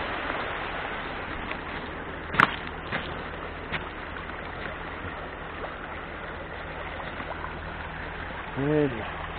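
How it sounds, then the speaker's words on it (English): Small river flowing steadily as a constant broadband wash, with a brief sharp knock partway through and a short voice-like sound near the end. "That's like a little river."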